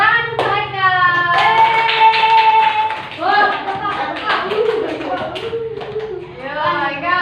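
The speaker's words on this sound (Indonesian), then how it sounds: "Tepuk tangan untuk Haikal." Classroom applause for a student, bursts of children's hand clapping ringing out loudly and close, mixed with kids talking and a teacher's voice throughout.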